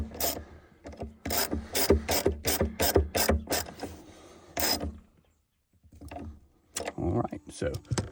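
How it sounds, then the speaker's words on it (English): A small-handled ratchet tightens a battery terminal on a 2015 GMC Acadia, giving quick bursts of close clicking pawl strokes in short runs, then a brief quiet pause and a few more clicks. "Good thing about using these little small handle ratchets is you don't over tighten anything."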